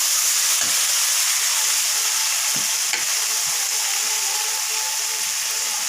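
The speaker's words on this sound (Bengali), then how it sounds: "জিরা দিয়ে দিচ্ছি, আবার নেড়ে ফেলে দিলাম" Cumin paste and chili powder sizzle and fry in hot oil in a pan for a small-fish jhal chorchori, a dense continuous hiss broken by soft scraping stirs, close and loud with no talking.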